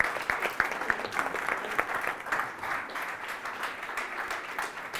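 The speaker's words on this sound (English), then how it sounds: "big up Jay, round of applause" A panel audience applauds steadily for several seconds, a dense, even wash of many hands clapping at moderate volume with faint crowd murmur beneath.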